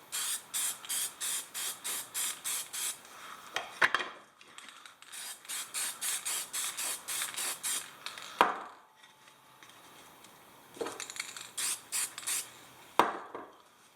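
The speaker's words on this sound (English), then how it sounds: "We take a little bit of lacquer and watch the color change on this." Lacquer sprayed from a can onto an antiqued rustic wood finish, heard in repeated short hissing bursts with brief pauses between them, close and fairly loud, with no talking.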